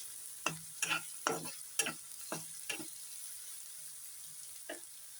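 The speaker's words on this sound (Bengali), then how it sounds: "তাহলে এগুলো আমি হালকা বাদামি করে ভেজে উঠাচ্ছি" Onion, green chili and garlic fry in a pan until light brown, with about seven sharp, rhythmic spatula scrapes over a faint, steady sizzle, close and clear, then a quieter lone stroke near the end.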